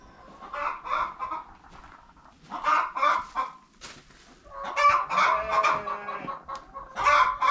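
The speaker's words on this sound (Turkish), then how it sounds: "Tavuklar yumurtladıkça horoz da buradan bağırıyor." Hens cluck and squawk loudly in repeated bursts while laying eggs, with a rooster crowing among them, close by and busy throughout.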